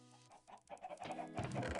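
Chickens cluck at a Minecraft chicken farm, a dense cluster of game clucks running steadily throughout and growing louder toward the end.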